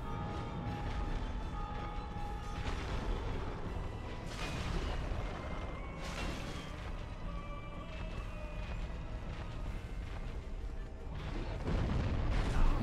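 Loud, dense battle noise from a Dark Souls Remastered boss fight, with a sustained rumble, repeated heavy crashing bursts and booms throughout, and a swell of impact at the end.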